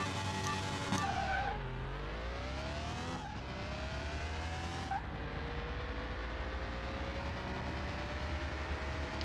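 A 1961 Jaguar E-type engine revs hard and launches in a video game drag race, its pitch climbing through three shifts, loud and close, alone with no talking.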